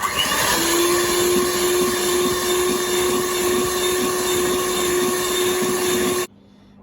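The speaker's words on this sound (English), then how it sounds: "You're just mixing the egg just until it's well combined" An electric mixer beats eggs into cake batter for a milk cake, giving a loud, steady motor whine with a constant hum. It runs without a break for about six seconds, then cuts off abruptly, leaving near silence.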